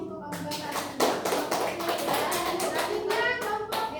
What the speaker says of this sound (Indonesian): tepuk tangan untuk kelompok Abu Bakar